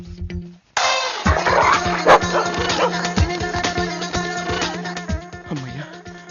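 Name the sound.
dog barking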